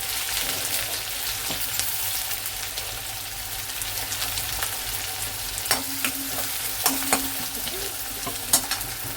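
Onions frying in a pan for a Konkani egg curry, stirred now and then, give a steady close sizzle with scraping stir sounds and a few sharper clicks of the spoon against the pan.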